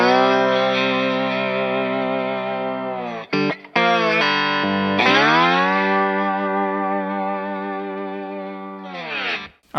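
Slide guitar runs through an Origin Effects Cali76 stacked compressor with dry signal blended in, playing sustained gliding notes with rich harmonics, brief breaks near the middle, and a final swell that cuts off sharply.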